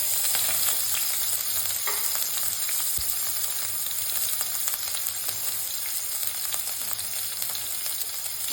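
Curry leaves and ginger-chili paste frying in hot oil in a pan for Punjabi kadhi, a dense, constant close sizzle with faint stirring clinks and no talking.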